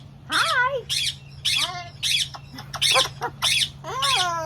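A cockatoo or similar pet parrot indoors gives a rapid series of about eight loud, harsh squawks close by, evenly spaced over a low steady hum.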